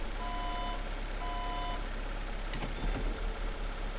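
Delivery truck in a grocery store simulator game sounding steady reversing beeps, two bursts of evenly spaced high tones over a constant engine idle, followed by a brief thump and rumble.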